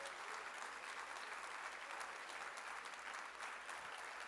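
A church congregation at a Thursday worship service claps steadily for several seconds, a dense, even wash of applause from the whole room with no talking over it.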